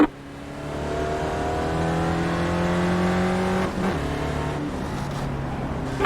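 Spec Racer Ford race cars roar around a track during a Runoffs race, a steady loud engine drone with rising pitch as cars accelerate, a brief dip midway, then continuing close at high revs.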